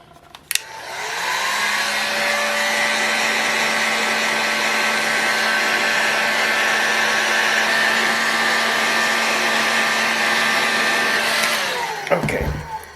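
A hair dryer blows steadily for about eleven seconds, warming a model engine case for a bearing fitting. It starts with a click, holds a loud, even whine and airy roar, then winds down with some handling clatter.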